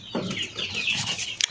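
Chickens clucking close by in a coop, a short run of overlapping clucks and squawks from hens with chicks, with a few sharp notes at the end.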